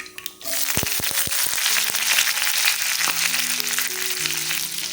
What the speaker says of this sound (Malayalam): ഇതിലോട്ട് കുറച്ച് ചുവന്നുള്ളിയും അതേപോലെ തന്നെ കറിവേപ്പിലയും കൂടി ഞാൻ ഇട്ട് കൊടുക്കുകയാണ്